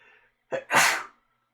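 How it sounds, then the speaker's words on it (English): A single sharp sneeze, preceded by a quick inhaled catch of breath, bursts out close and loud in otherwise quiet surroundings. "Oh god, of course I'm going to sneeze."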